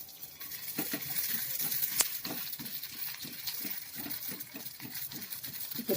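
Mosu mosu keerai adai sizzles steadily on a hot pan after being flipped, a continuous crackling fry with a rhythm of soft repeated stirring or pressing sounds and one sharp click.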